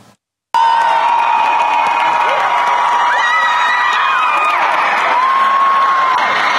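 A crowd in an ice arena screams and cheers after a brief quiet moment, bursting in loud and sustained with high shrill shrieks and whoops rising and falling throughout.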